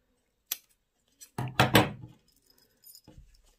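Scissors snip through part of a zipper's teeth in a sewing workshop making a zippered duvet cover, giving a few short, close metallic clicks and rustles.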